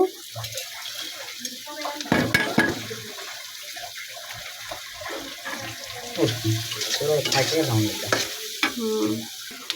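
Previously fried potatoes go into a pan of noodles seasoned with soy sauce and are stir-fried. Irregular spatula scrapes and clatters sound over a continuous sizzle, close and fairly loud.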